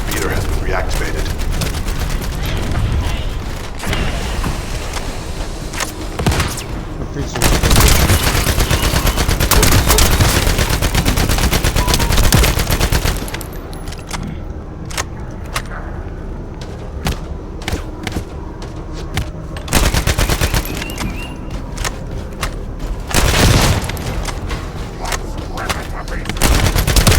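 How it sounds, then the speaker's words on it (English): Heavy gunfire and thudding impacts in the survival shooter video game The First Descendant, dense bursts and booms running throughout, loud and close, mixed with game sounds and occasional talk. "That stopped the gunfire."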